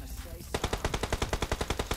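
Rapid M4 rifle fire in a PUBG-style shooter, a sustained burst of evenly spaced loud shots starting after a brief quiet moment and running to the end.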